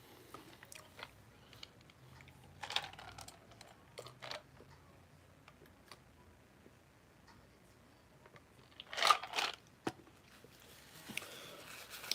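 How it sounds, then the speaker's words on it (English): Crunchy chips being chewed close up, sparse crisp crunches and bites scattered over a quiet background, with one louder cluster of crunching near the end. "Finish chewing this."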